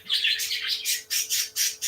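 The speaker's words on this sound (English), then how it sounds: "My birds are being stupid." Pet birds squawking loudly and close indoors, a run of about six harsh, shrill calls in quick succession with brief gaps, no talking.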